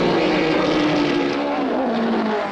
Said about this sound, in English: Coherent speech was impossible over engine noise.